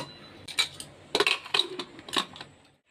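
A metal lid is set onto a cooking pot of vegetarian jackfruit curry. A handful of close, sharp clinks and rattles come in short bursts, then settle into quiet, with no talking.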